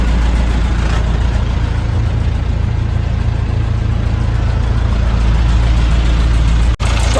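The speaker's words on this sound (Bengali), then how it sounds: "এখানে জাহাজের ইঞ্জিন রয়েছে বলে আওয়াজ প্রচুর বেশি" A ship's engine drones loudly and steadily inside a Sundarbans river launch, heard near the galley as a heavy low rumble that never lets up.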